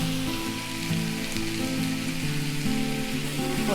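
Tomatoes and onions sizzle in a pan for a chapathi kurma, a soft, even frying hiss running under a gentle, stepping melodic tone throughout, no one speaking.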